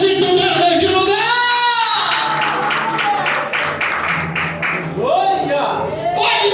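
Church congregation clapping during worship, rhythmic hand claps under loud, impassioned sung and spoken voices that dominate the mix.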